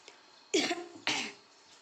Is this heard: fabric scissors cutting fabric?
no